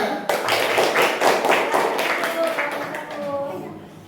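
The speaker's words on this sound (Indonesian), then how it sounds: "Beri tepuk tangan buat teman yang presentasi." Schoolchildren in a classroom clap for a presenting group, a close burst of brisk applause that holds steady and then thins out toward the end, with voices mixed in.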